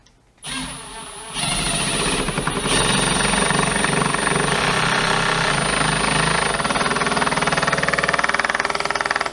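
A power drill starts up and then runs at a steady, loud high-pitched whine for several seconds, grinding continuously as it drives a single-thread wood screw in.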